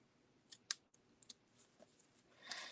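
Scissors snip ribbon tails at a crafting table in a few quick, close, separate cuts with quiet pauses between them, then a brief rustle at the end.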